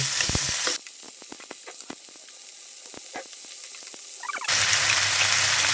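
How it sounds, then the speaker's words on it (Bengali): Garlic and cumin frying in a hot pan for a tripe dish: loud, steady sizzling at the start and end, with a quieter stretch of crackling pops and spatters in between. "জিরা দিয়ে দিচ্ছি আমি এটা হাফ হাফ ভেজে নিচ্ছি"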